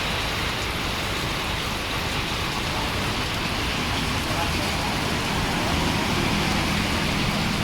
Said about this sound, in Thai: แต่ว่าฝนเบากว่าเมื่อกี้นิดนึงนะครับ